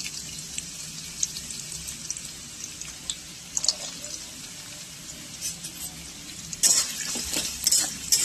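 Potato pieces fry over low flame in hot white refined oil in a kadai, a soft steady sizzle with scattered crackles and brief stirring scrapes, swelling louder near the end; a voice speaks faintly at times.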